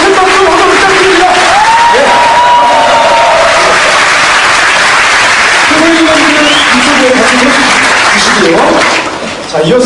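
Crowd applause at a Progressive Justice Party founding convention, loud and sustained, with cheering voices and an amplified speaker mixed over the clapping until it thins out at the very end.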